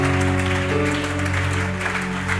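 Church congregation applauding during a French-language sermon, a steady wash of clapping that holds loud and even for a couple of seconds with no talk over it.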